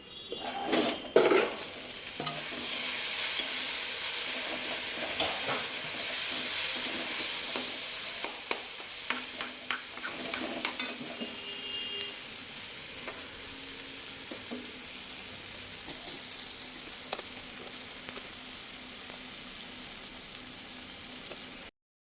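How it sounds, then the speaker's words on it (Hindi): Jackfruit frying in a pan on a medium flame, giving a continuous bright sizzle with frequent sharp clicks and scrapes of stirring and utensils against the pan, easing slightly toward the end. "अब कटहल डाल दूँगी, और मीडियम फ्लेम पे इसको ढक के जो है 10-15 मिनट इसको भूनना है।"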